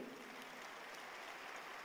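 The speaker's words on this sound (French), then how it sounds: "Il faut l'applaudir." An audience at a Ligue Islamique du Nord gathering claps together, a dense, even wash of applause held steady at moderate distance with no voices over it.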